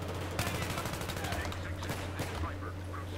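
Rapid automatic gunfire from Battlefield 3 co-op, a dense rattling stream of shots with sharper individual cracks standing out, steady and fairly close over game ambience.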